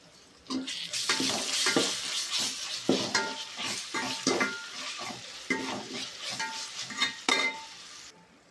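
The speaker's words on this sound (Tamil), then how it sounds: "வெங்காயத்தை வந்து நல்லா வதக்கிட்டு இருந்தேன்" Onions sizzle and crackle in a hot pan while a utensil repeatedly scrapes and stirs in an uneven rhythm, close up.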